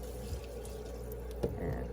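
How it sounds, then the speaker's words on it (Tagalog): Water running and splashing steadily as it is poured into a pot of rice for cooking, a continuous close wash with a brief louder splash partway through. "lagyan natin ng tubig"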